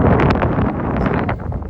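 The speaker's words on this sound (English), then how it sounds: "it is windy as heck out here" Strong spring wind blowing outdoors where flags are flying, roaring steadily across the microphone in loud, continuous gusts that stay dense for the whole stretch.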